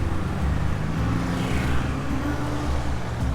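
Rush-hour road traffic streams past in the evening, a continuous dense roar of car engines and tyres with a passing vehicle swelling midway, fairly loud and without talk.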